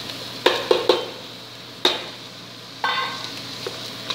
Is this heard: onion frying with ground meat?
yes